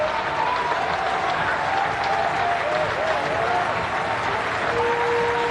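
A cricket crowd applauds Padikkal reaching his test century for India against Sri Lanka in the 2026 first test. The dense, steady roar of clapping continues throughout while a commentator talks over it.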